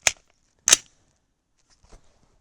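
A 16-inch AR rifle with a carbine gas system fires 300 Blackout 240-grain Sierra MatchKing subsonic factory ammunition, giving two sharp reports about half a second apart, followed by a faint dull clunk.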